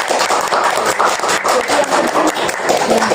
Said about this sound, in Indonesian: Boleh kasih tepuk tangan untuk Prof Arif.